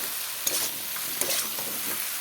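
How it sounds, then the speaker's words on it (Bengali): Potato and eggplant fry in fish oil with a bright, continuous hiss, broken by two quick stirring scrapes, close and loud with no talking. "মাছের তেল দিয়ে আলু দিয়ে বেগুন ভাজা করলো"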